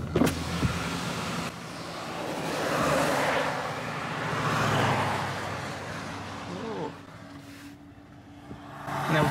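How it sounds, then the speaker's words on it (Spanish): A car rolls backward in neutral along a road in the magnetic zone near Ensenada, producing steady rolling tire and road noise with a low hum that swells and fades over several seconds. "el carro se está haciendo para atrás"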